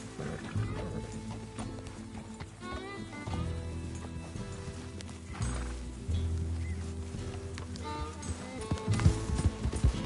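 Horse hooves clop and gallop in the video game Red Dead Redemption 2, a rhythmic beat mixed with dramatic music and occasional animal calls.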